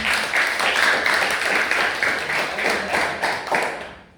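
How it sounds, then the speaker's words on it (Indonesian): Students in a classroom clap together in a lively group round, with rhythmic surges of hand claps held steady for a few seconds and then fading out near the end. "Tepuk tangan dulu buat kalian."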